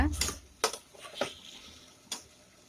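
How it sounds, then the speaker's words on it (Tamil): Ginger garlic paste is sautéed in a pan for mushroom biryani, heard as a few scattered metallic scrapes and clinks of a spoon against the pan, close and moderately quiet, with no steady sizzle evident. "இப்போ இதோட ராஸ்மெல் போகிற வரைக்கும் இதை நல்லா வதக்கி விடுங்க"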